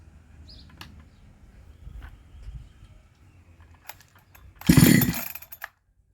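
A Neo-tec NH872 big bore chainsaw, a 372xp clone, on its first start: a low uneven rumble, then one brief loud rev burst near the end before it cuts off abruptly.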